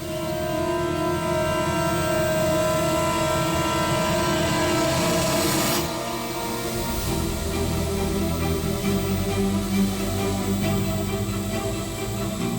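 A drone carrying a tied-on pouch flies off, heard as a continuous broad whirring drone that holds steady and then shifts slightly as it moves away, with no voices.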